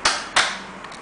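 A plastic trim piece is knocked out of a Nintendo Wii casing with two sharp, close knocks, followed by a couple of fainter ticks.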